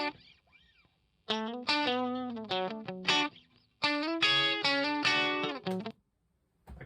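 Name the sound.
recorded guitar part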